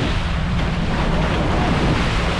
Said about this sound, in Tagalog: Yan, ang laking alon.